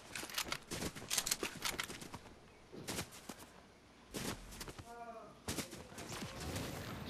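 Gunfire in the Fortnite video game: bursts of sharp shots, some in quick clusters, ring out in the middle distance with brief lulls between volleys while players talk over the action.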